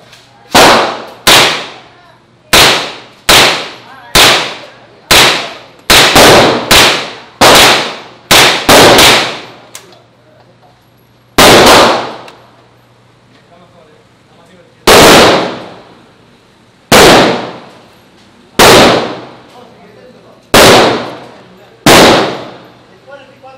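Call of Duty: Modern Warfare weapons fired in single shots, some loud sharp reports with metallic ringing tails, coming in quick clusters and then slower spaced shots, with no talk over them.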